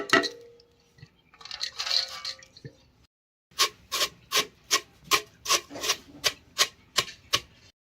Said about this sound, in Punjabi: ਫੁੱਲ ਮਖਾਣੇ ਕੁੱਟਣ ਲੱਗੇ ਕੁੰਡੇ ਘੋਟਨੇ ਵਿੱਚ ਇਹ ਵੀ ਬਰੀਕ ਬਰੀਕ ਕਰ ਲੈਣੇ